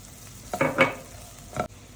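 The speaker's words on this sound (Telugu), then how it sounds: "దీన్ని కొంచెం పచ్చి వాసన పోయేటట్టు వేపుకోవాలి" Garlic, cumin, salt, turmeric and chili powder fry in a pan for a West Godavari fish curry, a couple of short stirring sizzles and scrapes close by, no talking.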